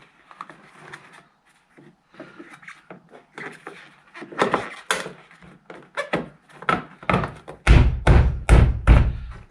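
Plastic door mirror panel on a Renault Kangoo being pressed onto its three clips, giving a run of close thumps and knocks that grow louder toward the end.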